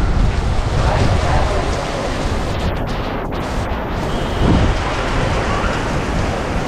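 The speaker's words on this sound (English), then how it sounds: "It's raining." Heavy rain pours in a dense, steady hiss with a low rumble of thunder rolling underneath; no voices.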